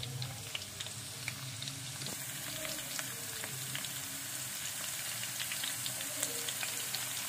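Finely chopped onion frying in hot oil in a frying pan for a dal tadka, a continuous soft crackling sizzle dotted with small pops, fairly quiet and steady throughout.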